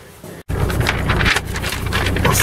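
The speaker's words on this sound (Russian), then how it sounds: "какой ветер!" Strong wind buffets the microphone in heavy gusts, a loud blustery roar that briefly cuts out, then surges back harder.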